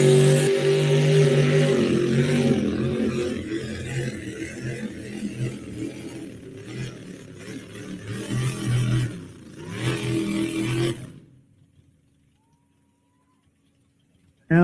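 Naturally aspirated two-wheel-drive pulling truck engine at a truck and tractor pull, roaring loud and sustained for about ten seconds with revving surges, then cutting off abruptly to near silence.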